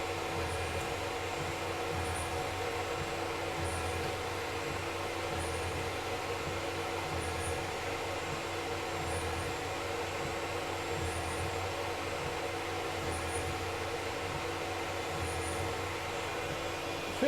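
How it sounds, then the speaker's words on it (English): A Tormach PCNC 1100 CNC mill runs a full-retract peck drilling cycle at 5,140 RPM with flood coolant, giving a steady loud machine drone with faint regular pulses recurring about every two seconds throughout. "doing my peck cycle. I think it's 31 pecks."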